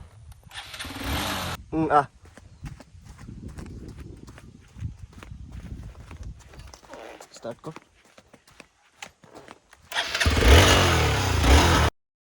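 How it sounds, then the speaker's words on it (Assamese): Voices talk for several seconds, then a motorcycle engine starts up near the end with a loud, close rumble that runs steadily for about two seconds. "বাইকখনৰ ওপৰত বহি বাইকখন ষ্টাৰ্ট কৰিব দিছোঁ"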